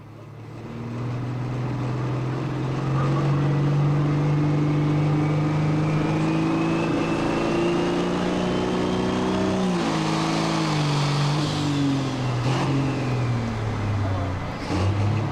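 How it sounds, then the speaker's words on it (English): A brand new light pro stock pulling tractor with a big turbo revs loudly and steadily at a county fair pull, its engine note climbing and holding, with a brief dip around midway before it winds back up. "Jamie Lars from Richland Center, brand new light pro stock tractor."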